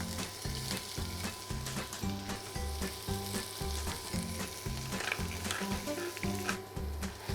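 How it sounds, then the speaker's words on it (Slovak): Pale leek sautéing in olive oil in a pan, a constant close sizzle and crackle with regular stirring scrapes throughout. "začneme podúsením bledej časti porku na olivovom oleji"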